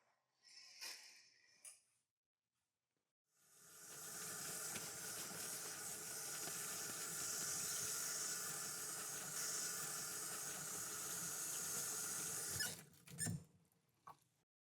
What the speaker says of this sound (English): After washing my hands